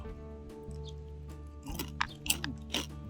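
Crab claw caught while night-foraging on the shore, crunched and chewed close up, with several sharp cracking bites growing louder toward the end over a steady low hum.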